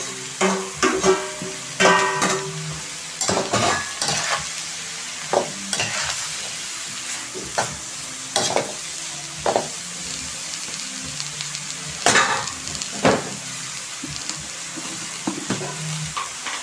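Bottle gourd and shrimp sautéing in a pan, soft continuous sizzle broken by repeated scraping stirs of a utensil at an irregular rhythm, close and moderately quiet, no talking.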